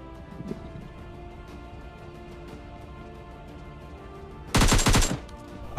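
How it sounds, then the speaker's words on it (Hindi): Gunfire in PUBG Mobile Lite: after a long quiet stretch of low game ambience, a sudden loud, dense burst of rapid shots rings out for about a second, close and alone. "अब यार यहां पर मैंने थोड़ा सा फायर किया उन लोगों को भटकाने के लिए"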